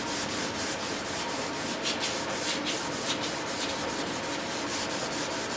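Sandpaper rubs back and forth over model F-18 wings covered in cloth, a close, steady scratchy hiss with rhythmic strokes repeating several times per second and no talking.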